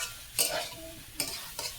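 A spatula scrapes and stirs potatoes and soybean chunks in a frying pan three times, over a faint steady sizzle, with no talking.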